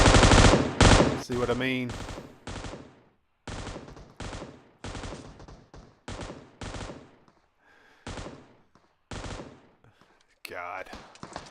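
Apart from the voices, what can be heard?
M249 machine gun firing in PUBG Mobile video game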